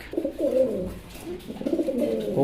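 Fancy racer pigeons, a male and a female, cooing close by in a steady run of soft, throaty rolling coos that fill the whole stretch without talk.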